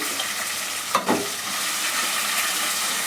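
Onions fry in hot oil for chicken biryani, a continuous close sizzle with one brief scrape of stirring near the middle and no talking.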